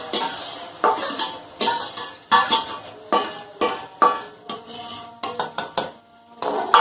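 Spoon scrapes and stirs yogurt into a chicken curry with bitter gourd in a metal pot, repeated clanking strokes against the pot with faint sizzling between them, close and fairly loud.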